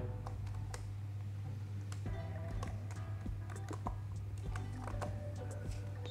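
Computer keyboard typing while code for an STM32F4 Nucleo board's SysTick timer is entered; scattered quick clicks over a steady low hum, fairly faint and close, no talking.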